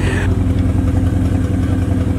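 A loud modified car's engine rumbles and revs close by, a heavy, throbbing low idle with a brief voice at the start.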